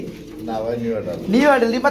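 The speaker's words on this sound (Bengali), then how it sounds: "এত বিউটি কবুতর রানিং" Pigeons at a pigeon market coo in close, resonant, rising-and-falling calls, repeated twice and loud, mixed with people talking in the background.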